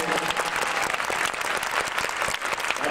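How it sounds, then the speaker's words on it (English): Dense, steady applause from a convention audience at a 1994 Quantum Leap fan convention guest star panel, loud and continuous throughout with crowd clapping blending into a thick wash. "Give her a big applause."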